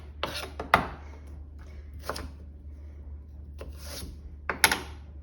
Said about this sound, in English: I'll just grate that piece up